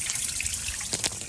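Water trickles steadily from a cooling system hose on a 1985 Toyota MR2 under restoration, a close, continuous dribble with a few louder splashes near the end.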